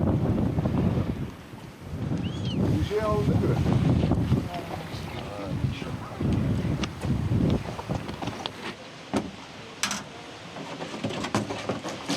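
Strong wind buffets the microphone in gusty low roars in a windy corner of Azerbaijan, with a few faint bird calls and scattered knocks in the background.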